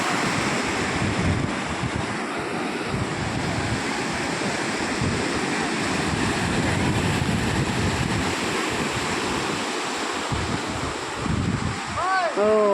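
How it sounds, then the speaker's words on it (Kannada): Ocean waves crash and surge continuously on Panambur Beach, Mangalore, loud and close, with strong wind buffeting the microphone throughout. "ಎಷ್ಟು ದೊಡ್ಡ ಅಲೆ ಬರ್ತಾ ಇದೆ ನೋಡಿ"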